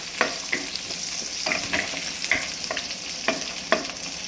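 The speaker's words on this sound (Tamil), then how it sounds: "நல்லா வதங்கட்டும். கோல்டன் ப்ரௌன் ஆகட்டும் வெங்காயம்." Onions sautéing in a pan for a vegetarian pulao, a steady sizzle broken by frequent stirring scrapes and clinks at an irregular rhythm, close and moderately loud with no talking.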